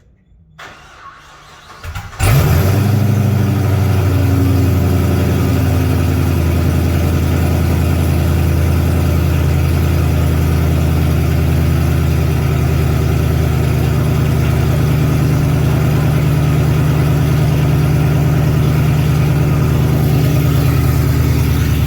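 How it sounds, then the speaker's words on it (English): A Pontiac GTO engine with an LT and X-pipe exhaust cranks briefly on a cold start, then roars to life with a deep, loud, steady rumble that holds without letup for the rest of the clip. "That's a really loud car."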